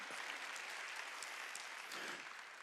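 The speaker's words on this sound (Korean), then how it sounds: "박수야." A church congregation claps hands during a Sunday worship service, a faint, steady wash of clapping heard from a distance with no voices over it.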